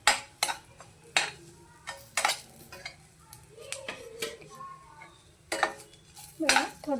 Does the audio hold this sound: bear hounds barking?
no